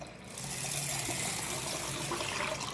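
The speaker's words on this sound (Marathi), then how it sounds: "आता ह्याला पाणी घालून भिजत ठेवूया।" Water pours steadily into a pot of washed rice and lentils to soak them, a continuous close splashing fill that starts after a brief quiet moment and holds at an even level.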